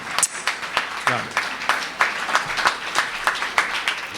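An audience at a Hindi poetry recital welcomes the 17-year-old poet Ishan Dev with uneven, fairly sparse clapping, individual claps standing out in a loose rhythm.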